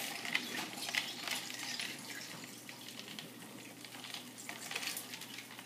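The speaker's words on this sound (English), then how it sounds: "I'm going to get a spoon, something to mix, or just something to mix up, something to mix it all up with" Spoon stirring a cup of Bigelow peppermint tea, with faint repeated clinks and swishes against the mug over a soft, even background hiss.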